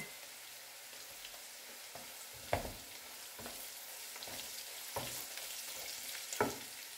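Onions frying in a pan for a Bengali katla fish dish give a faint, steady sizzle with a few sharp stirring clicks at intervals.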